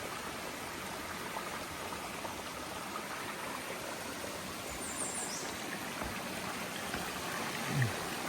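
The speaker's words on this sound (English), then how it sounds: "coming up to a little water feature" Small stream water feature beside a hiking trail: a steady, close rushing and babbling of water filling the scene evenly, with a brief faint thump near the end and no talking.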